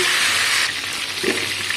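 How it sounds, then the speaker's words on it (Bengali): Potatoes coated in saffron and salt fry in hot oil for biryani, giving a dense, close, loud sizzle that crackles steadily throughout. "এদিকে আলুটা ভাজা হচ্ছে"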